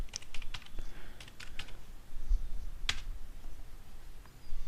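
Someone types a username on a computer keyboard, a quick run of sharp key clicks followed by a few scattered keystrokes, close and fairly loud over a light background hiss.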